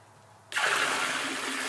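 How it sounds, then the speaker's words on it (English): Dirty fleece-washing water tipping out of a container and draining away: a sudden gushing pour that starts abruptly and keeps rushing steadily, close and fairly loud. "All that mucky water keeps tipping out and it drains away."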